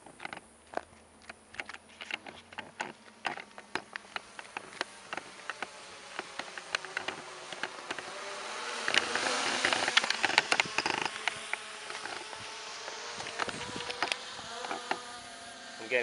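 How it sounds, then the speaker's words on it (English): A bee buzzes close around an outdoor RC drone filming session, a fluctuating insect drone rising and falling over a background of sharp clicks and handling noises, with no talk. "Getting attacked by a bee here."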